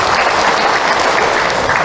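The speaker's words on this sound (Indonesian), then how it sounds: "Tepuk tangan buat Bunda yang bertanya." An audience at an Isra Mi'raj religious lecture breaks into loud, continuous applause, a dense and even patter of many hands with no speech over it.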